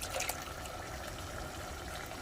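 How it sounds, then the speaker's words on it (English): Water poured into a blender cup for a picadillo dinner, a steady close trickle and splash that runs the whole way through without letting up. "add a little more water, like a half cup of water into the blender cup"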